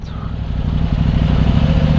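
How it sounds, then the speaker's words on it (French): A 2018 KTM 790 Duke engine runs at low speed in city traffic, a steady loud rumbling drone close by that swells slightly as it continues, with a faint higher whine briefly at the start. "je suis tellement pas habitué en vrai à avoir une moto qui fait du bruit comme ça"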